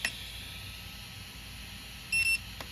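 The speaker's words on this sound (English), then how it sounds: "So you hear those 2 beeps." Two short, high electronic beeps from RC car electronics, an RMX 2.5 RTR with a ReveD servo, sound in quick succession near the end of a quiet stretch.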